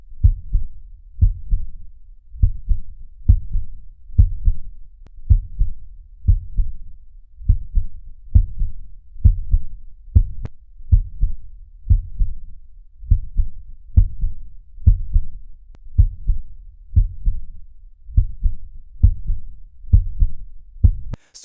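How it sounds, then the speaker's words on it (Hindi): A steady heartbeat plays alone, its paired low thumps repeating at an even, calm pace for about twenty seconds, close and clear with no voices. "बिल्कुल हमारे दिल की धड़कन की तरह।"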